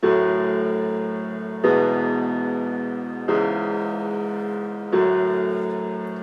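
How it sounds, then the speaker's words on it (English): Four sustained piano chords, each struck and left to ring and fade, played in a slow, even rhythm with no voices. "We also have this piano."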